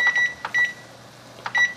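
Kitchen timer beeping while pasta cooks for a twisty taco casserole: three short bursts of steady electronic tones, each a pair of quick beeps, spaced about half a second to a second apart, fairly clear and close with no talking.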